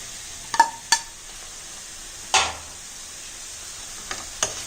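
Cut pumpkin pieces sizzle softly in a hot pan, with several sharp scraping clanks of a spoon stirring against the metal, spaced irregularly over a quiet fry.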